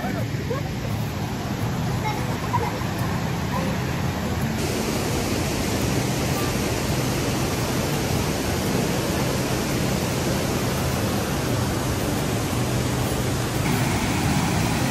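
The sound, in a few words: rushing water of waterfall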